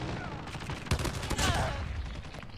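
Gunfire from a Call of Duty Mobile match in hardcore mode, a burst of rapid shots with sharp peaks near the middle, loud against continuous game noise.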